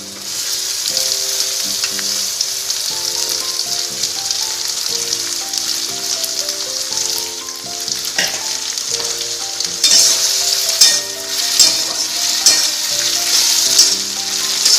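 Chopped chilli, carrot and tomato frying in a pan, a loud continuous sizzle close up that grows more crackly toward the end, with faint stirring and no speech.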